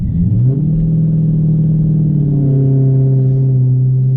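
A Dodge Charger 392 V8 pulls away under acceleration, its deep engine note rising smoothly in pitch and holding loud and close inside the car, with no talking over it.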